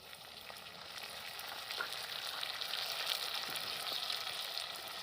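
Pork frying in a pan after dark soy sauce is added, a steady bright sizzle building slightly in loudness throughout, close and continuous with no talk.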